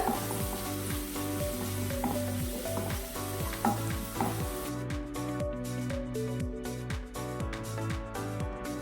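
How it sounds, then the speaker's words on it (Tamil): Onion sautéing in a pan with ginger and garlic, a steady loud sizzle and crackle with repeated rhythmic scraping strokes of a spoon against the pan, no voices. "வெங்காயம் ஆட் பண்ணிட்டு கலர் சேஞ்ச் ஆகிற வரைக்கும் வதக்கி விட்டுக்கோங்க."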